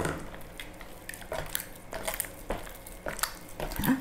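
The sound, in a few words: kneading pempek fish dough with flour by hand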